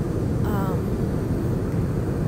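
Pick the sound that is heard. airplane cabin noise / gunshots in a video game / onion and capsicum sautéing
airplane cabin noise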